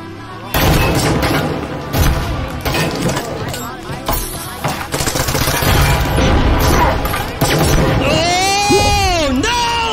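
A grenade blast and surrounding gunfire in the Breachers video game, loud and close amid a dense barrage of shots, with a voice speaking over parts of the action.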